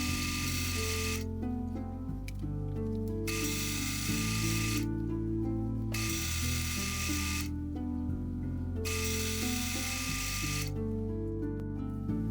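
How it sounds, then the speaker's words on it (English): A Horth milling attachment slotting small steel screw heads, a steady high whirring machine tone with alternating bursts of bright cutting noise and quieter gaps, repeating several times, no talking. "I took them over to the Horth milling attachment to slot them"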